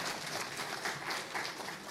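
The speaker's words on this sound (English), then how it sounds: "So give yourselves a round of applause for that." Applause from a seated audience at a panel session, a steady, fairly quiet wash of many hands clapping at a distance, with no voices over it.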